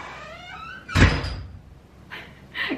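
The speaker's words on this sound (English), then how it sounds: "ooh, creaky doors in this house." A creaky door in a house swings with a short squeak and a loud thunk, followed by two fainter creaks, close by with no talking.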